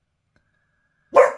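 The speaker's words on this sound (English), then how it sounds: "Sorry about the barking." A single sharp dog bark rings out close by after a near-silent stretch with only a faint hum.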